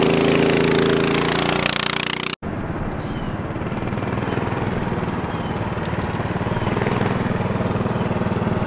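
A 420cc yard kart engine warms up with a loud, steady mechanical rumble after a brief cut at about two seconds, then runs on continuously up close.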